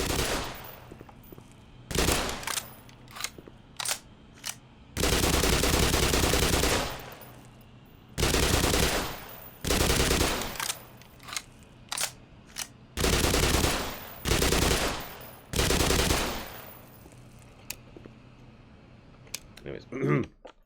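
Gunfire in the video game Black Mesa, from a low-recoil weapon: several loud bursts of rapid automatic fire, each lasting a second or two, separated by short pauses, with faint clicks in between.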